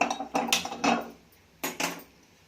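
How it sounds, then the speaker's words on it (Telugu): Metal pan clanking onto a kitchen stove, several close, sharp clinks and knocks in quick succession, then two more clicks as the burner is lit, quiet otherwise. "ఇప్పుడు స్టవ్ పైన బాండ్లు పెట్టుకొని స్టవ్ వెలిగిద్దాము."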